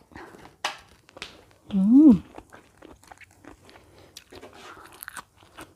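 Crunchy, non-chewy squid is bitten and chewed from a spicy Thai seafood salad: close, sharp crisp crunches scattered through the bite, with a voice briefly heard between mouthfuls.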